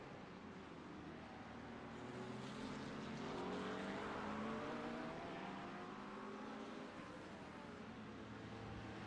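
Onboard sound from a Porsche 992.2 GT3 race car in a sim racing championship round, with a loud, continuous engine note climbing and falling through the gears over broad road and wind noise.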